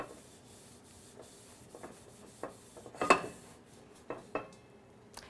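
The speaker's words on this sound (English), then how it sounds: "find a nice dry spot, and then you're going to buff and wipe in the same direction as the grain of the" A cloth buffs and wipes a stainless steel pot along its grain, giving soft intermittent rubbing swishes with a few light metallic squeaks and taps, close and quiet, no voices.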